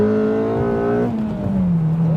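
A Honda engine in a CL7 Euro R or modified CL9 Type S revs hard and climbs into VTEC, a loud close rising howl that changes tone partway through, with no talking over it.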